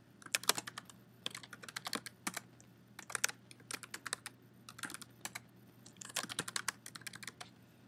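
Bursts of rapid keyboard typing, crisp close clicks in uneven runs separated by short pauses.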